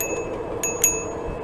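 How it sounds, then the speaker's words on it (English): A bell on a fast electric bike rings in two or three bright metallic dings that ring on briefly, over a steady background hum, with no talk. "It's nothing like hitting this bell when you come up on people doing 30 miles an hour"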